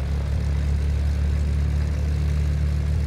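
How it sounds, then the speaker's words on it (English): Simulated Ikarus C42 light aircraft taxiing in the FSX flight simulator game, a steady droning engine and propeller hum held at constant power, loud and unbroken. "So release the brakes, gonna add a bit of power on."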